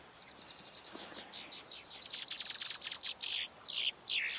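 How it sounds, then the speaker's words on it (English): A swamp sparrow sings a rapid trill of evenly spaced chirps that speeds up and grows louder, followed by a few richer closing notes, clear at moderate distance with no talking over it. "Hearing a swamp sparrow."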